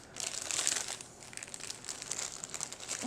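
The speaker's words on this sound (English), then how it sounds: "get the plastic wrap, the plastic bag, and go ahead and put it inside." Close, continuous crinkling of a plastic bag as frozen pizza dough balls are wrapped and pushed inside, rustling steadily with small crackling bursts.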